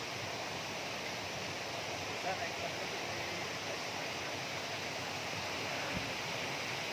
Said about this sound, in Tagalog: tunog ng lagaslas ng tubig sa sapa